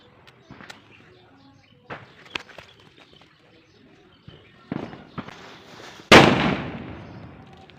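Scattered small pops and taps, then a single loud bang from a large Lakshmi firecracker at Diwali near the end with a rushing decay.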